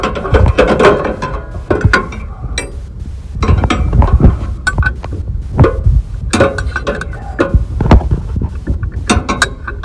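Metallic ratcheting clicks and clunks come from tightening a bolt with a screwdriver on a Yard Machines MTD 638RL lawn tractor, with irregular bursts of scraping and knocking close by.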